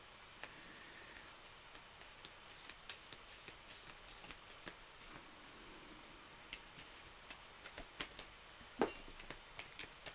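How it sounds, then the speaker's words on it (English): Tarot cards being shuffled by hand at close range, quiet rapid riffling with scattered sharp card snaps and flicks, no talking. "I just threw half a shuffle out."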